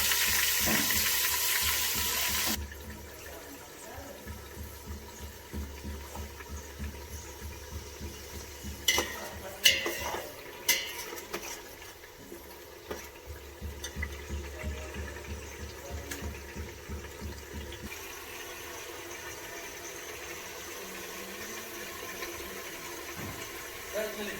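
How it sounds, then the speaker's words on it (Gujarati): Chopped onion sizzles in a pot for a village-style Gujarati chicken curry, with a spoon scraping and clattering in irregular bursts. Loud hissing at the start drops to a quieter sizzle under the stirring. "ડુંગળી સતળાય છે અંદર, લાલ થાય તો રહેવા દઈશું"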